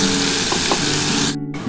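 Ground spice paste hitting hot oil with fried onions for a mustard-sesame rohu fish curry, a loud close steady sizzle with a couple of stirring clicks, briefly dropping away near the end.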